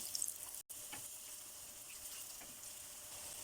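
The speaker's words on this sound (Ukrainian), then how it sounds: "Смажимо на середньому вогні." Continuous hissing sizzle of meatless, eggless cutlets frying in oil over medium heat, steady and fairly quiet, with a brief dropout near the start and faint crackles throughout.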